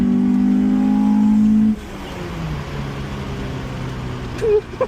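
A Honda Civic engine held at full throttle, giving a loud, steady high drone that drops off abruptly partway through and leaves a lower, rougher engine rumble.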